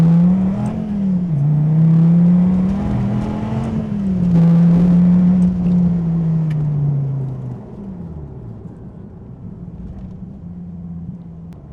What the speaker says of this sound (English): You can hear the pistons are super big. Let's go from first gear.